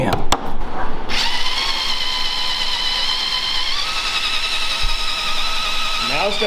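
A power drill bores into a wooden 20 mm workbench top, a loud steady high whine after a few sharp knocks at the start, holding for several seconds before winding down at the end, with voices talking near it.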